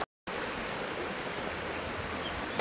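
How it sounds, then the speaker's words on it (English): Water flows steadily from a small artificial fountain in Nakatsu, a continuous close, even rush that starts after a brief silent moment and runs alone with no voices. "just over here we've got this little fountain again. I don't think this is completely natural."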